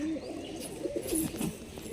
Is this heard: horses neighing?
no